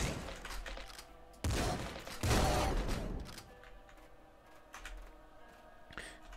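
Bursts of gunfire from a weapon in the video game Nuclear Throne, a few loud clustered volleys in the first seconds that trail off into quieter clicks and faint shots.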